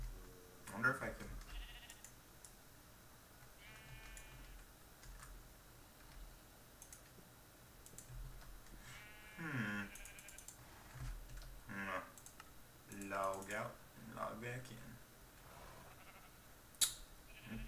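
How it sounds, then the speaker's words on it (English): Sheep in the Minecraft video game bleat in several short calls spread through the clip, alongside keyboard typing and someone talking over it. "Get in there, sheep."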